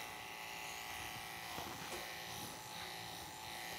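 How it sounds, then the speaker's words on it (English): A Wahl KM5 electric clipper buzzes steadily at close range while grooming a Labradoodle's freshly bathed, dried and brushed coat, a constant motor hum with slight changes in load and no speech. "the clipper is doing a very nice job getting through this coat"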